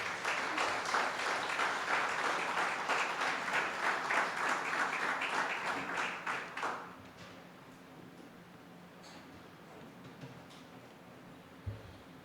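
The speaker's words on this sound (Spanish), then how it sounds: "dale un aplauso y ponte de pie" A church congregation applauds loudly and steadily with dense, continuous clapping for about seven seconds, then it fades away, leaving a quiet room with a few faint knocks and small sounds.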